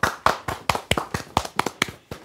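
Applause on a television makeover show, sounding as a few hands clapping in a sparse, slightly uneven rhythm of about a dozen distinct claps, fairly close and quiet, with no talking.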